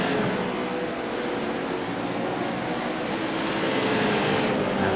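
Formula Renault race cars on an oval track, a loud sustained roar of engines passing close with a broad steady rush throughout.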